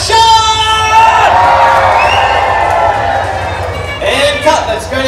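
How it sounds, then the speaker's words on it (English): A crowd of extras screams, whoops and cheers loudly at a staged car race shoot, a dense sustained roar with shrill voices rising again near the end. "What I need you guys over here to do is scream, cheer, go crazy, act like you're really at the race"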